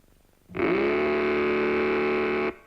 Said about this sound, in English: you can make it roar with Mattel's terrific new Baroom hot rudder engine